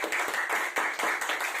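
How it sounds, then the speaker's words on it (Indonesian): A church congregation claps hands together in a steady, quick rhythm, the claps fairly soft and evenly spaced without talk. "Coba tepuk tangan dong, berikan kemuliaan bagi nama Tuhan."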